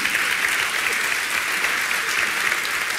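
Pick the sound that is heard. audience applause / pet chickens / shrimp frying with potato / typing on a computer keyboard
audience applause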